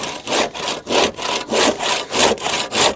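A crosscut saw cuts through wood while building a small pole barn, with loud, close, rhythmic rasping strokes, about eight back-and-forth passes in three seconds, and no other sound.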